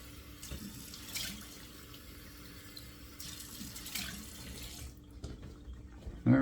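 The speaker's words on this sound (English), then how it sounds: "there's the cold water running out of the sink tap here" Cold water runs from a bathroom sink tap in a soft, steady trickle with a few splashes. The flow cuts off and a louder clunk follows at the end.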